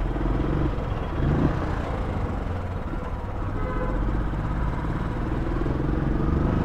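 Royal Enfield motorcycle riding off-road, a steady engine rumble with wind and rattling that runs without a break, close and fairly loud throughout.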